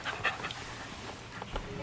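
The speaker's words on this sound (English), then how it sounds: "Mary says her dog, Pal, a Jack Russell Terrier, was supposed to be the ideal addition to their family" A Jack Russell Terrier pants close by in quick, breathy bursts, with soft whimpery catches and faint background noise.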